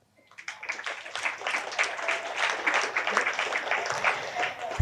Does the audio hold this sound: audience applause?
yes